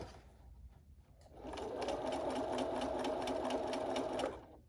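A sewing machine stitches a fitted fabric face mask, its steady motor whir starting after a quiet moment and running evenly for about three seconds before stopping.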